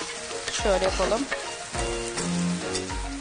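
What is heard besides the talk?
ground meat and onions frying in a pan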